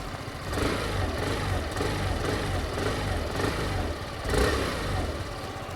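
Sym Jet 14 125 scooter engine on its stock exhaust, revving steadily at close range with a couple of brief surges, no talk over it.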